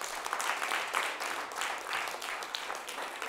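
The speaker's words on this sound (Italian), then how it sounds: "Facciamo un applauso alla..." Applause from an audience, a steady patter of many hands clapping at moderate distance, soft and continuous without clear speech.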